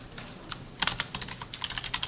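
A computer keyboard is typed on in quick, uneven bursts of close, crisp key clicks that grow denser toward the end, with no talk.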